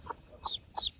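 A broody hen clucks close by, four short, soft clucks in an uneven rhythm with quiet gaps between them.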